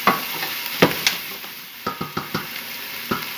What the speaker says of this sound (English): just let it saute evenly